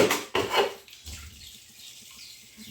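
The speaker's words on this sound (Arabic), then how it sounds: "نغسلو بالماء السخون" Hot water splashing and running over raw chicken pieces in a kitchen sink, with a couple of loud bursts of water and clatter at the start, then a quieter trickle and light knocks.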